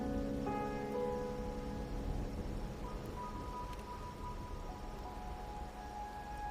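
Steady rain in a video game, a dense hiss of falling drops on surfaces continuing throughout with faint tonal sounds layered over it, no voices.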